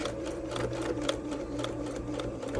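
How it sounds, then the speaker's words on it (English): A sewing machine stitches fabric forward and then in reverse to back stitch, giving a steady close mechanical whir with a fast, even clatter of needle strokes and no voices. "Like always, you back stitch. So go forward a little bit, go back"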